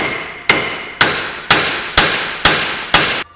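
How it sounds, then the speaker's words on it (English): Six sharp hammer whacks strike the part holding a car's ball joint stud on an old Mopar, evenly spaced about half a second apart, loud and metallic with ringing decay. "Sometimes a few whacks on the actual part the ball joint stud goes into will release it."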